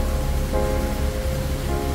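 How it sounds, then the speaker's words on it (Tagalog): Steady rain at Victoria Peak, Hong Kong, with a soft, continuous hiss and low rumble, no voices, heard close and fairly loud throughout. "Umuulan na pero may waterfalls pa din"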